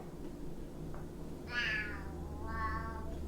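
A domestic cat meows twice indoors, one longer call followed by a second drawn-out meow, both fairly close and clear over a steady low background hum.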